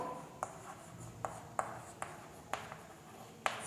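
A pen writes the word riboflavin on a surface in a quiet room. Light scratching runs through the strokes, broken by a handful of crisp taps and flicks spaced irregularly, all faint and close.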